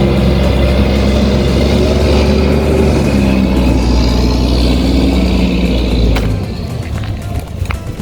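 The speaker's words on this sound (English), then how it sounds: "Garbage truck." A garbage truck rolls past on a road in Spanish Town, its heavy low engine rumble loud and close, easing off slightly as it moves away.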